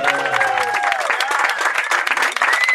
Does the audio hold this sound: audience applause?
yes